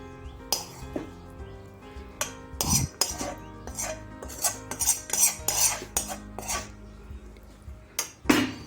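A metal spoon scrapes and clinks against a pot while spreading a vegetable layer over rice for veg biryani, giving a steady run of sharp taps and scrapes close up, with no talk.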